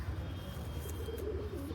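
A female pigeon coos softly at close range, a low murmuring throb lasting under two seconds against quiet room noise.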